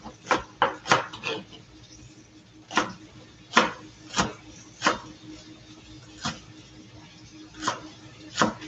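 A knife chops green onions on a cutting board in a home kitchen, with about a dozen sharp, close knocks in uneven bursts and short pauses between them.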